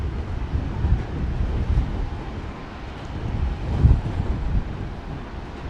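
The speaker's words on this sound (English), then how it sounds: "the wind is really blasting me over here" Strong wind at Brisbane airport buffets the microphone in a continuous low rumble that swells and gusts, loud and close, with no voices.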